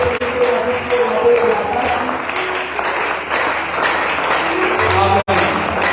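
Congregation at a French-language church service applauds and cheers to acclaim God, a dense, steady wash of clapping and voices lasting throughout, with one sharp pop near the end.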